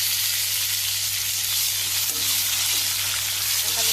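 Golden-brown onions and tomatoes sautéing in a pan for beef sukka make a loud, continuous close sizzle and hiss, with faint stirring scrapes in the second half.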